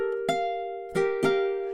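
Fingerstyle ukulele picking of a spooky tune, three plucked notes at a slow, uneven pace, each ringing clearly with sustained tones over a steady drone, close and moderately loud, no voices.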